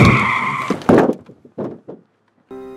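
A car skids with a screech and a heavy thunk of impact on a pedestrian, followed by scattered knocks and a short tonal tail, loud and close.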